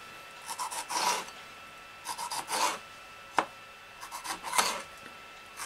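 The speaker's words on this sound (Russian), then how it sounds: "Теперь мы нарезаем паприку, лук и помидор." A knife dicing bell pepper, onion and tomato into cubes on a cutting board, heard as short bursts of quick close cuts separated by brief pauses.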